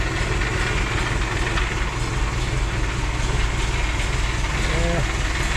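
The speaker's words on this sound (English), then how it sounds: "I love that sweet little engine. Been a good little tractor so far." A small garden tractor engine idles while warming up, a steady low rumbling drone that holds constant and loud throughout.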